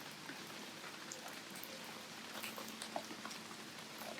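Rain falls steadily and faintly on a surface outdoors during a torrential downpour, a soft continuous patter with scattered individual drops.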